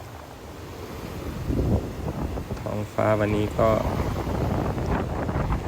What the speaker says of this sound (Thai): คลื่นลมค่อนข้างที่จะแรงนะฮะ